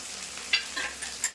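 Spice paste of ground green chili, ginger and garlic with turmeric powder fries and sizzles in a pan, a steady hiss with a few brief stirring scrapes, close and fairly quiet, with no talking.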